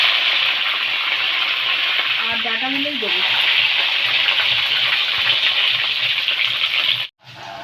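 Pumpkin pieces and stems fry in hot oil with a steady, loud sizzle throughout. A voice speaks briefly near the start, and the hiss dips abruptly at the end.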